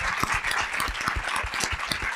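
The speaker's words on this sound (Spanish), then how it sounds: "Capaz les damos un aplauso al panel." Audience applause for a panel at an education conference, a steady patter of claps at moderate level throughout.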